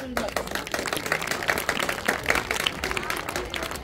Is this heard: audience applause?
yes